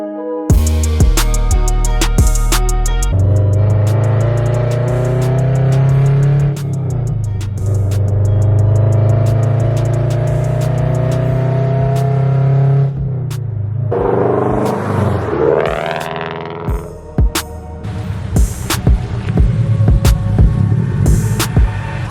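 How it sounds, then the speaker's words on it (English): A Subaru BRZ sports car engine while driving, a loud, continuous low rumble and throbbing hum that rises and falls with revving and shifting, close and steady throughout with no speech. "That cold start never gets old. Always a vibe driving the BRZ."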